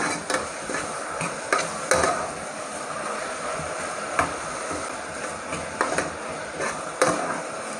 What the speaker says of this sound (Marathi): आता ह्याच्यामध्ये आपण आहे ना टॅमॅटो टाकायचे व्यवस्थित परतलं जायचं